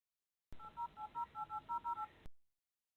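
DTMF tones from a mobile phone as a number is dialed, about a dozen short evenly spaced beeps in quick succession, clear and close, with no talking over them.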